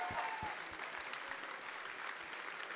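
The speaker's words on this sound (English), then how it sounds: "So let's go ahead and get another round of applause for both teams playing today." An esports crowd at a League of Legends regional final gives a short, faint round of applause, with scattered claps fading under the room's hum.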